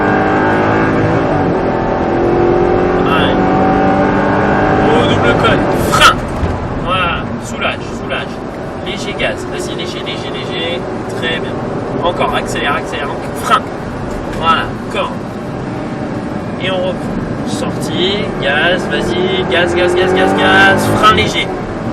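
An R8 car works through a cone course at Le Luc, its engine rising and falling as it brakes and accelerates again, heard close with an instructor talking over it.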